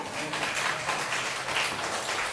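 A church congregation claps in sustained, dense applause from many hands, loud and filling the room the whole time without a break.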